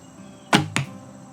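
Two sharp whooshing releases from a recurve bow, each a quick, loud swish with a low thud, spaced a quarter second apart over a quiet background, with no talking.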